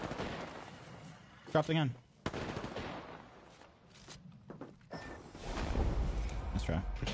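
Gunfire in an online shooter video game, sharp bursts and a short rattling volley mixed with game sounds while players talk over it.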